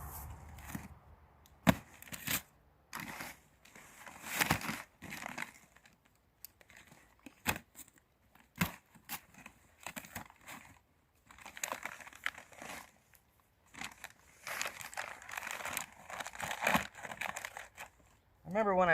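Cardboard box packaging around a painted bumper cover is cut and torn open with a blade, giving irregular crinkling, scraping and ripping sounds in close, uneven bursts, with someone talking through much of it.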